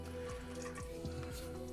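Liquid gravy drips and trickles steadily off a spider skimmer as meat is scooped out of the pot, a quiet, close, continuous wet patter with a few soft squishy splashes and no talking.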